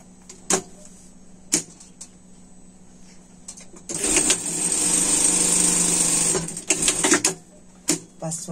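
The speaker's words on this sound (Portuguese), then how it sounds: "vamos passar uma costura aqui" A sewing machine stitches a seam on a polar fleece collar for a pet garment, running steadily for about three seconds, close and loud, between scattered clicks and handling noises.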